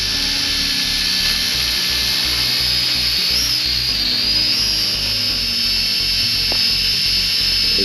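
A small hobby drone hovers nearby and drifts in the wind, giving a constant high-pitched buzzing whine with a faint low flutter underneath, steady and unbroken throughout, with no voices.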